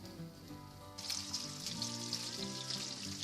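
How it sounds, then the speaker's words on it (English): Rohu fish frying in a pan, a steady close sizzle that swells suddenly about a second in as the pieces hit the hot oil, with soft musical tones running underneath. "frying the fish on a frying pan"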